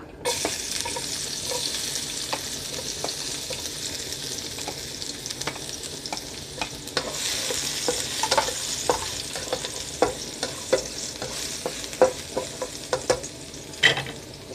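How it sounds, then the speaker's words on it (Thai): Garlic sizzles and crackles in hot oil in a pan, a steady frying hiss with occasional sharper pops and stirring clicks, nearby and without talk. "กระทะร้อนน้ำมันร้อนกระเทียมลงค่ะ"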